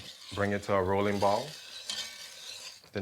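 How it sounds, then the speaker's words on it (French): A boiling mixture of evaporated milk, sugar and butter is stirred in a pot, giving a close bubbling, sizzling churn with scraping. It is preceded by a brief voiced, tonal sound at the start. "À partir de maintenant et pendant une demi-heure, on va touiller."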